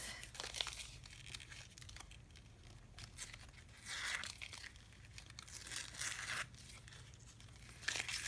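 Duct tape peeled off a junk journal page, giving a series of soft crinkling rips and tearing bursts at close range that swell and fade over several seconds, with no talking.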